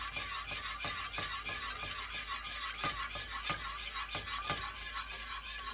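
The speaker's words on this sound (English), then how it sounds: "I'm going to add in a little bit more milk and whisk that together" Whisk stirring milk into a thick bechamel sauce in a pot, a steady scraping, swishing rhythm with regular strokes, close and continuous throughout.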